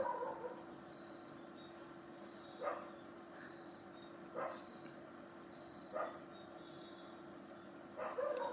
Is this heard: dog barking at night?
yes